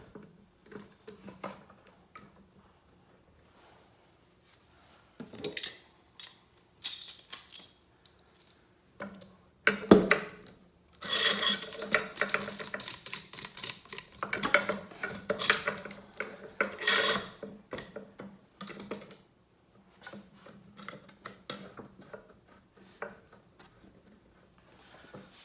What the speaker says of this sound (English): When I tighten these clamps down, these seams are tightening up and we're getting glue squeeze out